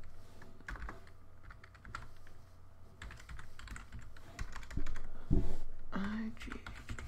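Close, quick bursts of typing on a computer keyboard while writing a note, clicking in uneven runs with brief pauses and a faint voice murmuring partway through.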